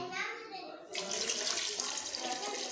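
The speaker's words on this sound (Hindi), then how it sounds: "तो हमने 1 जग डाला है इसके अंदर पानी का और ये आधा जग ये भी डालते हैं।" Water pours steadily from a jug into a pot of beef trotters for a Pakistani paya recipe, a continuous splashing rush that grows fuller and louder partway through, heard up close.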